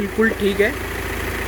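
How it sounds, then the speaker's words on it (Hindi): An Audi Q3 engine idles after repair work on a bent connecting rod, giving a steady low hum. Someone speaks briefly over it at the start. "अब आप इसके इंजन का साउंड सुन सकते हो"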